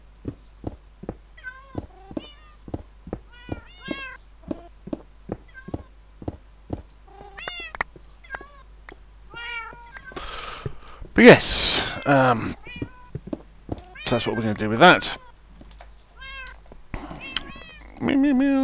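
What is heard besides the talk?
cats meowing in the video game Minecraft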